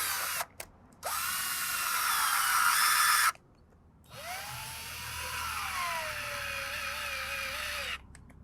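Power drill driving in to fasten a magnet system onto a block of a KidKraft Lakeside Bungalow wooden playhouse, two sustained whining runs with a pitch that dips and rises, close with a brief gap between.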